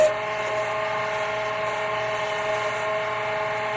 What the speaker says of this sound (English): using the end of the roughing gouge, I'll go in there and I'll clean it up